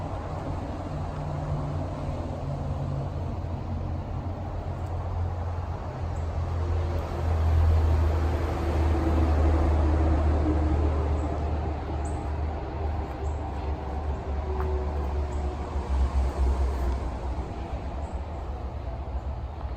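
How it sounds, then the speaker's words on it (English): Steady road traffic rolling past outside a house, heard from beside a wall, a continuous low rumble and hiss of passing vehicles that swells slightly midway, with no talking. "I'm gonna just let you listen to the traffic."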